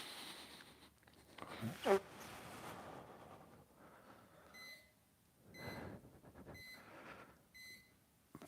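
A workout interval timer beeps in a regular series of short high tones during a home mobility routine, mid-level over a steady breathy, windy background hiss.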